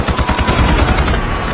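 War film battle scene with dense automatic gunfire, rapid continuous bursts of shots layered into a loud, sustained barrage throughout.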